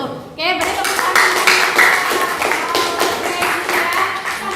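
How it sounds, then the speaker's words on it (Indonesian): A classroom audience breaks into applause after a coaching presentation at a school: a brief voice first, then steady, moderately loud clapping from a group continuing for several seconds. "beri tepuk tangan"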